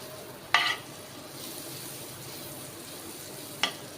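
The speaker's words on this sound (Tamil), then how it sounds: "ஸ்டவ்வில் ஒரு பேன் வச்சுக்கோங்க இதில் பட்டர் ஆட் பண்ணிக்கலாம்" Butter melting in a pan on the stove with a steady, soft sizzle throughout, marked by two brief louder scrapes or clinks near the start and near the end.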